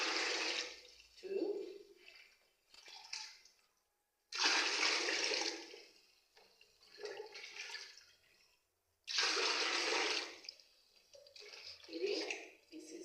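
Clean water poured by the litre cup into soap concentrate to dilute it for laundry bar soap, three long gushing pours separated by pauses with smaller splashes between.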